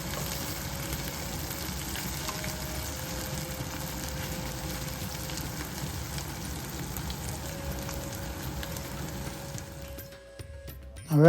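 Crispy okra sizzling in a pan, a steady frying hiss with soft stirring scrapes from a spoon, continuing evenly before the sound fades near the end.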